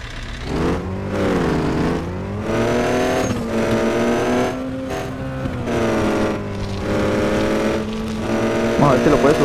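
Revving car engine in the offroad driving game Offroad Outlaws, a steady droning motor whose pitch rises and falls in repeated surges as the vehicle climbs, with a voice speaking briefly near the end.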